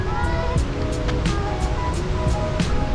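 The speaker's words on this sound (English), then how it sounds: "They got a dirty waterfall in New Jersey." Steady roar of rushing, falling water fills the whole clip, loud and close, with no break in the flow.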